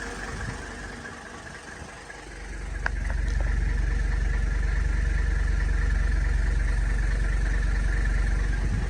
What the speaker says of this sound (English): It's got a shaky idle.